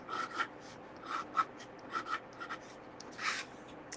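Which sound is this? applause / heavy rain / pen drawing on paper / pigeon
pen drawing on paper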